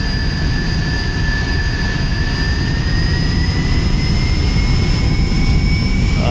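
Jet engines spooling up on a takeoff roll at Manchester Airport in Microsoft Flight Simulator X: a loud, continuous roar with steady high-pitched whines that slowly rise in pitch, no talking.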